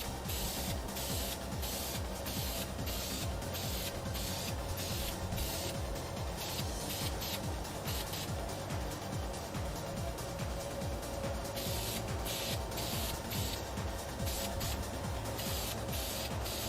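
Spray paint going on as a wet coat over a rear brake caliper from a Mazda RX-7 FC, a steady close hiss broken by short rhythmic pulses that repeat throughout.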